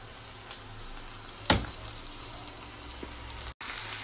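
Seasoning of sweet pepper, tomato, hot pepper and onion sautés in a pan, a soft continuous sizzle with a brief louder stir near the middle and a short gap near the end.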